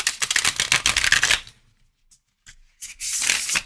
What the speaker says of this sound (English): Oh, those shuffle beautifully.